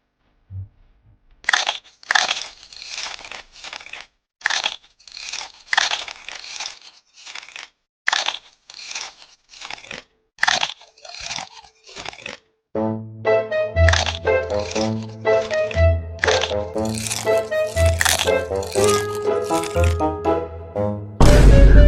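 Crunchy Kurkure snacks being chewed: repeated sharp, close crunches in an irregular rhythm, later joined by loud music under the bites.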